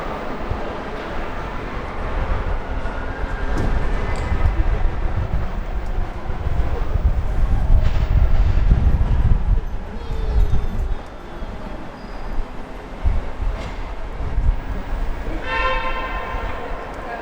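A Disneyland tram rolling along with a steady rumbling drone and wind buffeting, low mechanical noise throughout, with brief tonal squeals near the end.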